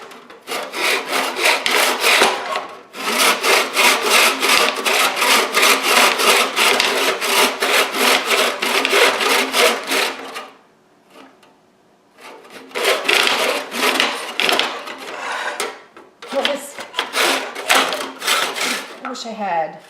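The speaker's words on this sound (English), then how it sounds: "I have my big grandpa saw. Let's cut and see what happens." Old hand saw cutting through pallet wood, loud rhythmic rasping back-and-forth strokes close by, running steadily for about ten seconds, pausing, then resuming in two further bursts.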